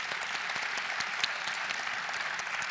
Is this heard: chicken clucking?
no